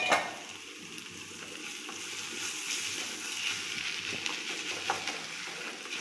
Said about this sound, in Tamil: இப்போ வந்து தக்காளி நல்லா வதங்கிருச்சான்னு பார்க்கலாம்